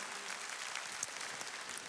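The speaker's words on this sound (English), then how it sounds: "So just give a round of applause because she will see the video" Keynote audience at a WorldVentures Momentum 2016 event in Singapore applauds in a steady, dense wash of clapping that holds at an even level for the whole stretch, with no voices rising above it.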